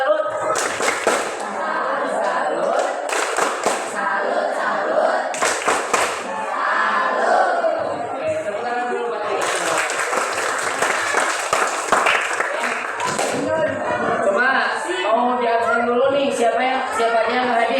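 A classroom of students in Indonesia performs a rhythmic clapping chant, bursts of sharp unison claps alternating with group chanting voices, loud and close.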